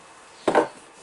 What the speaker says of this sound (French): Tu coupes, tu coupes, tu coupes, tu coupes et tu avances comme ça.